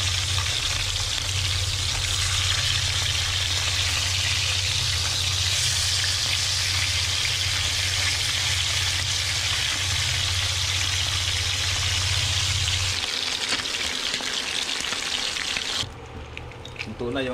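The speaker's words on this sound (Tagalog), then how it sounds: "ito na yung ating prito" Steady, dense sizzling of fish frying in hot oil, loud and continuous, with a low hum that drops out near the end.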